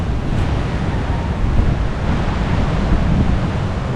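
Strong wind roars continuously into the microphone with a low rumbling buffet, surf blending in underneath, loud and unbroken.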